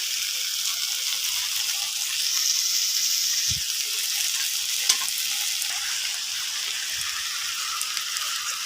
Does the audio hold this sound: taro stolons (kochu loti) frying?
yes